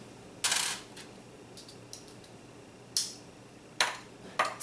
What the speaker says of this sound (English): Go ahead and unscrew the two screws holding this in.